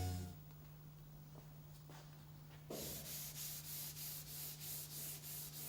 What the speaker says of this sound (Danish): Som f.eks. her ved tørslibning.